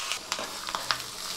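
Curry leaves hit hot oil for a South Indian tempering over asafoetida, giving a soft, close crackling sizzle with a few quick pops across a brief moment.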